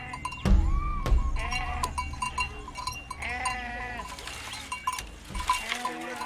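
Livestock being herded into their enclosure at dusk by a family of cattle herders in lion country: repeated bleats and animal calls near and far, with knocks and a clank over a busy outdoor background.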